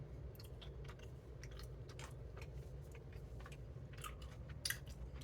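Close, quiet chewing of an apple pie flavored Brach's jelly bean, soft sticky bites and squishes repeating at an irregular pace with no talk.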